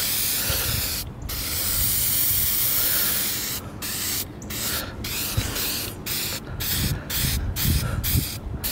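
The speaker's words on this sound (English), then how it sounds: "We're about to paint this roll bar." Spray paint hisses onto a car roll bar in a series of close, loud bursts, one long spray followed by shorter regular pulses separated by brief gaps.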